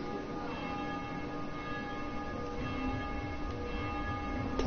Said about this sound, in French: puis il sonne la cloche aussi, elle n'arrête pas de sonner